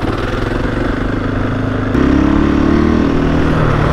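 A 2021 KTM 500 EXC dirt bike engine drones steadily up close, then its pitch and loudness jump partway through as it revs up for a wheelie and holds at a higher, louder pull.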